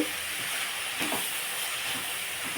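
Shredded cabbage and grated coconut fry in a pan with a continuous steamy hiss and sizzle, fairly close and even, with faint soft clinks of stirring underneath.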